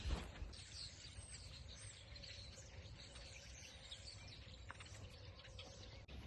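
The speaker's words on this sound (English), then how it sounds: "the birds are quite loud out here" Faint birds chirp and tweet in the distance over a brown cow pasture, with a soft, steady outdoor hiss and no voices.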